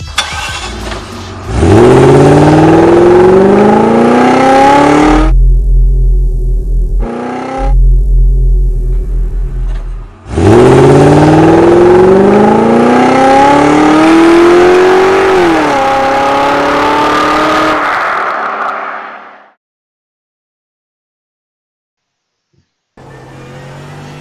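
Mercedes AMG GT3 race car in iRacing on the Nurburgring during an IMSA race, its engine revving hard through rising gear sweeps, dropping to a deep idle rumble between two loud acceleration runs, then cutting off.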